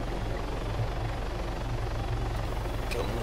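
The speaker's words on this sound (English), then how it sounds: "Hold that heli for a second." A helicopter's steady, loud rotor drone with a low rhythmic thump runs continuously throughout, close by and unbroken, with faint voices barely present beneath it.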